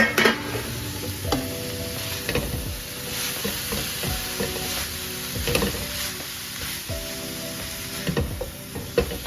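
Vegetables tipped into a hot pan for a lightly cooked Chinese-style dish and stir-fried, giving a soft ongoing sizzle with repeated scraping and clinking strokes of a spoon against the pan, close by and with no talking.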